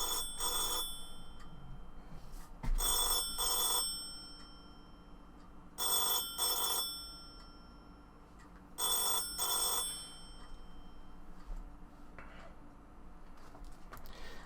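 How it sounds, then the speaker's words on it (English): A mobile phone rings in three repeated bursts of bright, electronic tones, each lasting under a second, with quiet room noise between them and no talking. "That was me forgetting to turn my phone onto silent."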